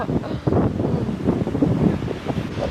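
Strong wind buffets the microphone outdoors in heavy, continuous rumbling gusts, loud and close, with faint talk partly buried beneath it.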